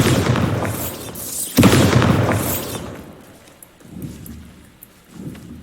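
A Bombardo spell explosion from the Hogwarts Legacy video game booms loudly in two bursts, a long roaring blast with a sharp renewed surge at mid-point, then fading rumbles and smaller thuds as it dies away.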